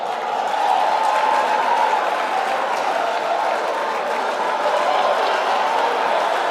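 Sustained ovation from a large audience at a youth leadership debate grand finale in Nigeria, a dense, even roar of clapping and crowd noise that holds steady for several seconds.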